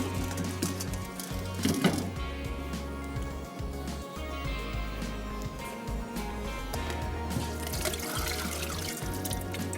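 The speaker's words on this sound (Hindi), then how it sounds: "चावलों को हम स्ट्रेन कर लेते हैं" Water draining off boiled rice through a strainer while making palak gosht pulao in a kitchen: a steady, splashing pour and trickle running continuously, with a brief louder gush near the start and low rumbling underneath.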